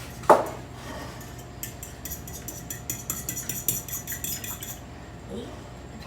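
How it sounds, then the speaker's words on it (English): Eggs are whisked in a bowl for brown sugar apple cinnamon muffins. A light clink opens the sequence, then a run of quick, rhythmic metallic taps and scrapes follows, moderately close and fairly soft. "So we're going to go ahead and whisk the eggs."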